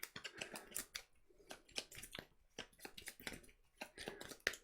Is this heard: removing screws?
no